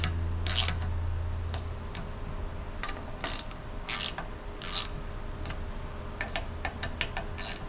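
Nuts on a FASTLAB swing-out spare tire carrier for a Polaris RZR Pro are tightened with a ratchet, giving bursts of rapid clicking close by over a low steady hum.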